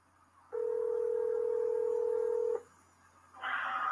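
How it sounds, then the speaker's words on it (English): A long steady telephone tone plays for about two seconds while a caller is being added to a conference call, then a brief quiet, then a burst of higher DTMF dialing tones. "Let's dial in Keisha as well"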